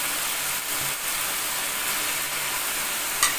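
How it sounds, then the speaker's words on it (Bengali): Washed rice frying in spice masala produces a steady, close sizzle and hiss that holds evenly throughout, with faint stirring underneath. "আমি এই মশলার মধ্যে চালটা দিয়ে দিব, আমার ধোয়া চাল আছে আমি সেটা দিয়ে একটু ভেজে নিব"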